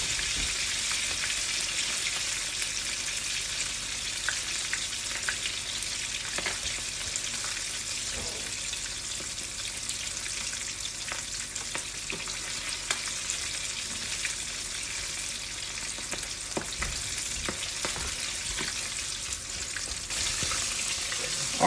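Chicken wings fry in a pan with a loud, dense, continuous sizzle and crackle, spattering oil popping now and then across a long steady stretch without voices.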